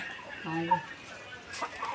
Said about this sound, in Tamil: இதுதாம்மா கோயில் இடத்து கோழி